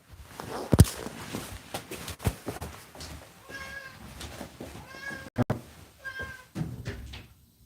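A house cat meows several times at moderate distance, short drawn-out calls spread across the stretch, mixed with sharp knocks and shuffling footsteps near a door.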